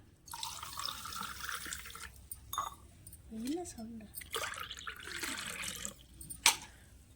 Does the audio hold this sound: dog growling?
no